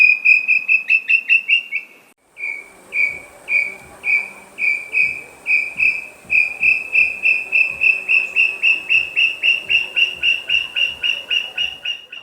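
A tinamou (inhambu) sings in rural countryside during the breeding season: a long, steady series of clear, evenly spaced whistled notes, about thirty in a row, fairly close and alone, after a brief pause near the start.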